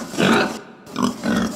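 A pig grunts in three low, rough snorts close by, separated by short pauses, with no voices over them.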